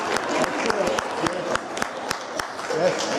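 A lone listener claps during a lecture on customer value, giving a steady run of about a dozen sharp, close hand claps over faint background voices.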